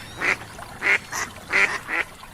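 Cartoon ducks in a children's animated folk tale quack in five short, clear bursts, close and loud, with no other sound around them.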